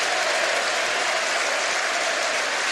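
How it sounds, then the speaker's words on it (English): The crowd at Neil Simpson's testimonial match between Aberdeen and Manchester United applauds from across the stadium, a dense and steady roar of clapping that holds at an even level throughout. "And now Neil Simpson can drink in the applause from the locals."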